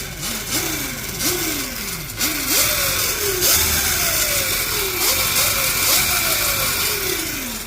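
A Razor Dirt Rocket's electric motor, fitted with a DETFAB motor mount, runs with the bike up on its kickstand, giving a loud nearby whine that rises again and again as the throttle is worked.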